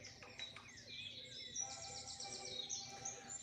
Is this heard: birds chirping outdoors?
yes